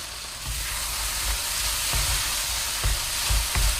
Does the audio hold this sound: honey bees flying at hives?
no